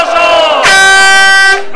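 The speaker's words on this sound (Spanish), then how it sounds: "Cuando se lo ponga, gritáis todos oso" An audience at a live comedy show shouts a single word together in one loud, sustained roar that swells suddenly and holds for about a second before cutting off.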